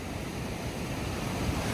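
Rough sea waves breaking on the coast in Malta make a steady, loud roar of surf with wind noise and no break.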